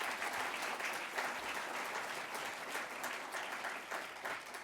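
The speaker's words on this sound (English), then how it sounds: "Please give them a round of applause." Audience applause at the 2019 Dr. John W. Rice Awards Ceremony, a steady, dense wash of many hands clapping at moderate distance, sustained evenly without a voice over it.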